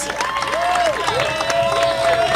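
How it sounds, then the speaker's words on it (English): Crowd at an outdoor climate justice rally applauding and cheering for the event organizer, a steady wash of clapping and voices with whistle-like tones over it. "I want to have everyone give a big round of applause again to Zoe"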